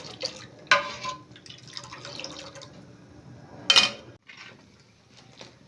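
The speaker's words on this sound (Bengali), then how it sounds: "ফোটাবো দুধ ক্রমাগত নাড়তে থাকবো নাড়তে নাড়তে দুধটা একটু ঘন করে নেব" Milk boiling down in a pot for nolen gur payesh is stirred with a ladle: scattered clinks and scrapes, two sharper knocks, and gentle bubbling in between, with no talk.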